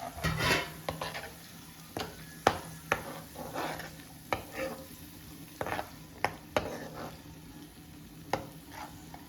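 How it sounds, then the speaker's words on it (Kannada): Ground tomato, onion and yogurt paste frying in a pan for a spinach and pea curry, with a steady low sizzle under repeated sharp clacks of a spoon stirring against the pan. "ಹಸಿ ವಾಸನೆ ಹೋಗೋ ತನಕ ಚೆನ್ನಾಗಿ ಹುರ್ಕೋಬೇಕು"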